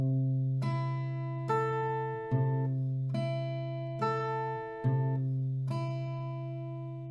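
An acoustic guitar plays a riff slowly, with roughly six evenly spaced plucked notes and chords ringing out over a steady low bass tone, close and clean with no speech.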